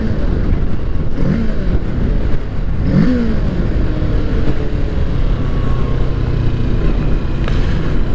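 Engine of a 2020 Kawasaki Ninja 650 KRT Edition motorcycle on the road, a steady loud drone with a few quick throttle blips rising in pitch, under continuous wind rush from riding.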